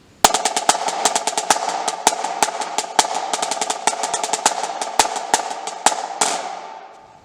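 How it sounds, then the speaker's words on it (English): A snare drum plays a marching beat loop: crisp, evenly spaced strokes with stronger accents, ending in a sustained buzz roll that rings out and fades, alone and close. "you do a buzz with both hands, so your right and your left hand, and you push in towards the drum"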